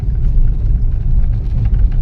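A lorry passes on a village road, giving a loud, steady low engine rumble close by with no voices over it.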